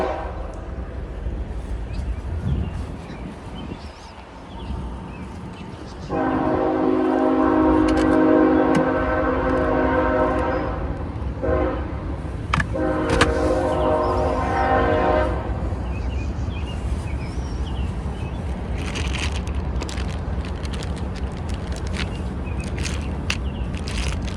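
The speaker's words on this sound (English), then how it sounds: "Oh, the train." Train passing near a yard sale, with a loud horn blast lasting several seconds in two parts over a constant rolling rumble.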